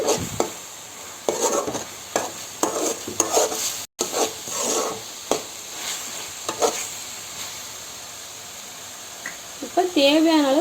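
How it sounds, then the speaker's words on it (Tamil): A spoon stirs thick egg drop curry in a pan, producing intermittent scraping and rubbing strokes with light sizzling, close and fairly quiet, with talking between the strokes. "நல்லா மிக்ஸ் பண்ணி விட்டுக்கலாம்."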